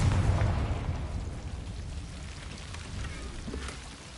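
A Confringo fire spell goes off in the Hogwarts Legacy game: a loud, booming blast with a crackling, rumbling tail that gradually fades, plus a smaller pop near the end.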